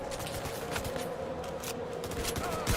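Sustained gunfire in the video game Payday 3, a dense fusillade of rapid shots running continuously at moderate level through the whole stretch, with a slightly louder burst near the end.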